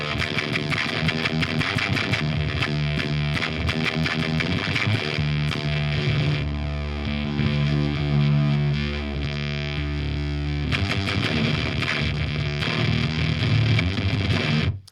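An electric guitar plays through a Fuzzrocious Croak fuzz pedal with its filter shaping the lows, producing thick, saturated heavy riffs with sustained chords and choppy bursts, loud and continuous before cutting off at the end.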